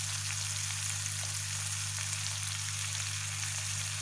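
Steady sizzling and crackling of bitter melon stir-frying in a hot pan, continuous and close, with a low constant hum underneath.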